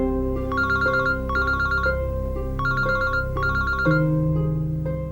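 A telephone rings with a repeating electronic tune over a steady tonal backing, loud and close, the ring pattern recurring several times with no speech.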